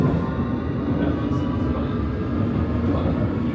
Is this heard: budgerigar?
no